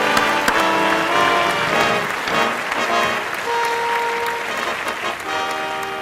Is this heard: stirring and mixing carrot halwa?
no